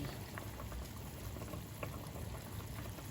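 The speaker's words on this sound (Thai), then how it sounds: "เดือดแล้วค่ะ" Coconut-milk curry with pickled bamboo shoots bubbling at a steady boil in a pot, a dense continuous burble of popping bubbles, fairly close, with no voices.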